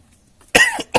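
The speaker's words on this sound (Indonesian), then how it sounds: "akhirnya batuk juga" Two sharp, close coughs from one person, a longer burst followed by a short second one after a moment of near silence.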